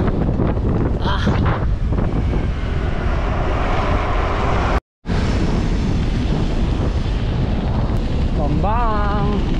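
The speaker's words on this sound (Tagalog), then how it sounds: "Grabe, lakas ng hangin." Strong wind buffets the microphone during a motorcycle ride on a north loop route toward downtown Bambang, roaring loud and continuous with a brief dropout midway.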